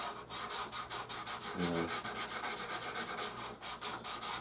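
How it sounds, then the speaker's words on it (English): Sandpaper rubs back and forth across the wooden body of a Jazz Bass-style bass guitar, a close, steady rasping in regular even strokes that continues throughout. "you get your sandpaper and you go to work basically"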